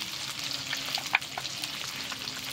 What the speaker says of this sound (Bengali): দিয়ে দিচ্ছি খানিকটা লঙ্কা গুঁড়ো, জিরে আর ধনে গুঁড়ো।